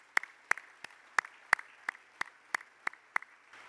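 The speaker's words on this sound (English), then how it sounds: "Let's give them a round of applause." A crowd at a chairman's address for new Hall of Fame members gives applause, heard as steady, evenly spaced sharp claps, fairly faint and distant, with no talk over them.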